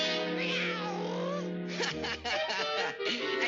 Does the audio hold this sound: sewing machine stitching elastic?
no